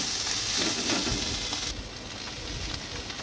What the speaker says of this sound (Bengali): পাকা উচ্ছে আর দিয়েছি পেঁয়াজ উচ্ছে দিয়ে পেঁয়াজ দিয়ে এটা ভেজে নিচ্ছি